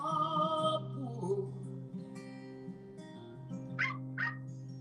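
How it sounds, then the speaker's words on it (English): A dog barks and whimpers in a series of high, tonal yelps and whines, with a couple of sharper barks near the end, heard fairly close and alone. "Oh no, she's still barking."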